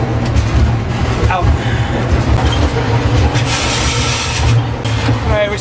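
Steady rumble and rattle of a train in motion, heard from on board as it leaves Roanoke, with continuous rolling noise, faint clacks and occasional wheel squeal throughout.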